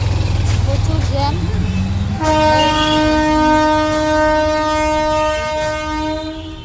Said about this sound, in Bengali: টিকিট কাটবো, ট্রেন ঢুকে গেছে।